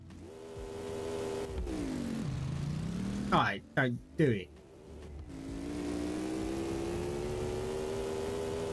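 A work truck engine idles and revs, the pitch climbing and falling in long sweeps, broken by a few short sharp bursts midway, while a person speaks briefly over it.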